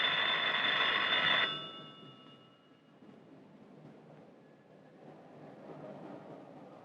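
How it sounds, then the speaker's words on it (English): An old telephone bell rings loudly for a little over a second and then stops, leaving a quiet room hum. "when the phone rang"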